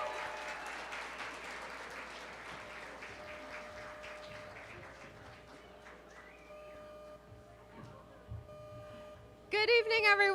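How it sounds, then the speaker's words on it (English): An audience applauds Mayor Michelle Wu at a women's reception in Boston, a broad, steady wash of clapping across the room that slowly thins out, with a few brighter tones rising at the end. "So please clap it up for our mayor"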